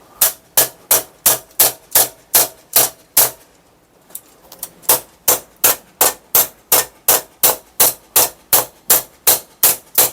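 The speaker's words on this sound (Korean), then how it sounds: "이렇게 망치로" A hammer drives a drying rack bracket into a balcony ceiling during a self-install of a veranda laundry rack, giving a steady run of sharp, loud, evenly spaced blows that pause briefly partway, then resume at the same pace.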